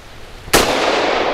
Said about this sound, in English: That's got some recoil to it.